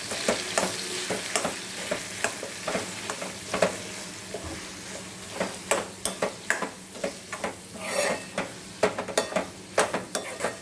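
Roasted, mashed eggplant fries in a pan for bharit, a steady sizzle broken by repeated sharp spoon scrapes and taps as it is stirred, close and fairly loud.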